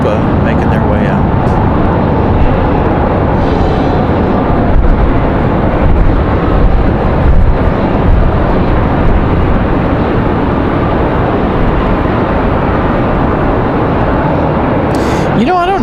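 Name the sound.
Copa Airlines airplane taxiing out at Raleigh-Durham airport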